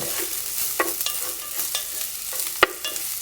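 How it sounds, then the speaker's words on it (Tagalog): Onion and garlic are sautéed in a pan with a spatula. A low sizzle runs under several sharp scraping stirs and clicks against the pan, with one loud clack near the end and no talk. "Igigisa lang natin yung ating sibuyas at bawang."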